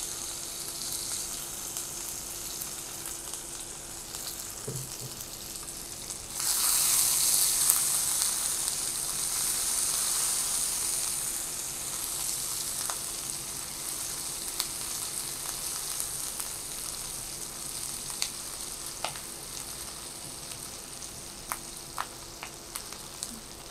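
Onion and a peeled garlic clove fry in oil in a pan with a steady close sizzle that grows louder partway through, then carries on evenly with a few faint clicks.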